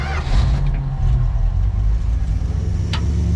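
A 1970 Dodge Coronet with a failing pump runs after being started, a loud, close, steady low engine rumble with slight surges and no talk.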